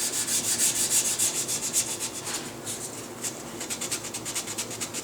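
Wood is sanded by hand along the grain with the sandpaper wrapped around a thumb instead of a sanding block, giving close, soft, rhythmic rubbing strokes in quiet surroundings during gunsmithing work.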